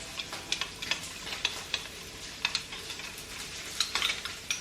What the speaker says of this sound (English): Just make sure you really mix that up because it all tends to go to the bottom.